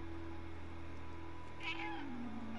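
A cat meows in the video game Stray, one drawn-out meow rising and falling near the end over steady background game music and hum.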